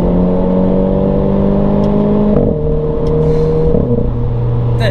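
A Renault Clio 4 RS with an RS16 body kit holds a loud, close engine drone, then drops in pitch twice as gears shift, with the tone stepping down at each change.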